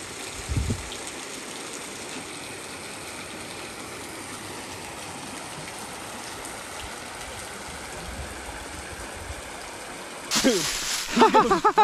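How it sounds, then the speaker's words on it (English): A creek flowing through North Alabama woods in spring gives a steady, close wash of running water throughout, with a brief low thump near the start and a louder burst of rustling and voices at the end. "So we've got a nice scenic view of a beautiful creek here."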